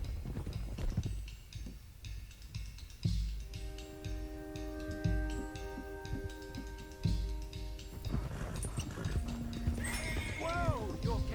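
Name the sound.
horses whinnying and hooves clopping, Red Dead Redemption 2 video game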